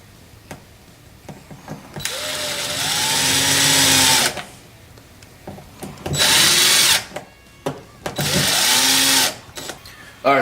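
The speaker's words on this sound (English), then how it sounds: "And now you can tighten your screws." Power drill tightening screws on a Kyosho Mad Force RC car axle, three loud whirring bursts of a few seconds each that rise in pitch, separated by short pauses with small clicks and handling noises.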